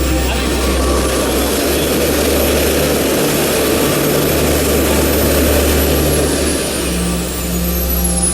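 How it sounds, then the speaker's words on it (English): RC jet plane with a single-stage micro turbine engine burning jet fuel, a loud continuous roar and high whine that holds steady throughout, with people talking underneath. "yes, they are micro turbine engines, single stage turbine engines."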